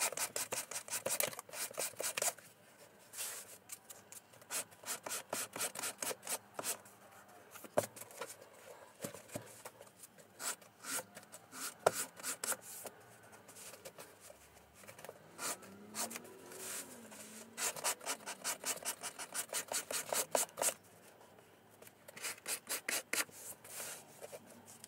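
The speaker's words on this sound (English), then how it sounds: "So I'll just use a piece of sandpaper to take the very hard corner off" Sandpaper rubbed hard against the corners of book boards for a half-leather library binding, quiet close-up scraping in repeated bursts of back-and-forth strokes with brief pauses between.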